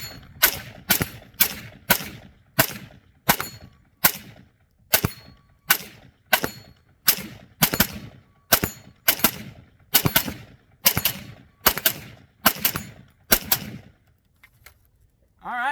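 Sig Sauer MCX Virtus patrol rifle firing Winchester white box rounds on an outdoor range: about twenty loud, sharp gunshots in a steady rhythm of single rapid shots, ending as the string stops.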